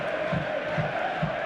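Football crowd at Deepdale during an FA Cup quarter-final between Preston North End and Aston Villa, a steady dense roar of many voices in a large stadium with rhythmic chanting swells.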